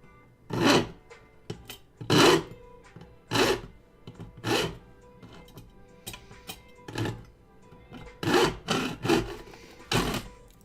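A pull-stroke hand saw cutting wood for building puppet hands and wings, nearby rhythmic rasping strokes repeating at an uneven pace with short pauses between them.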